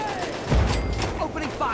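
Gunfire in Fallout 3's Operation Anchorage, a burst of booming shots and rattling fire amid battle noise, with voices shouting over it.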